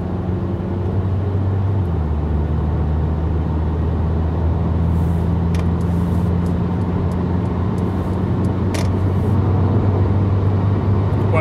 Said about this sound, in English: Okay, and now the car accelerates itself.